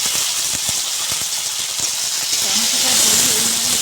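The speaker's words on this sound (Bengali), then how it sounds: "এবারে এই টমেটোগুলো আমি দিয়ে দিচ্ছি" Tomatoes hit hot frying oil with a loud, continuous sizzling hiss close by, while a voice murmurs faintly near the end.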